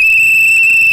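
A whistle is blown to express joy, one steady, loud and piercing tone held for about a second, close and alone.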